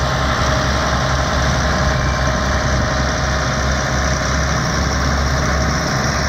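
Loud, steady drone of a Case 2290 tractor engine idling nearby, with a constant low throb and mechanical vibration throughout.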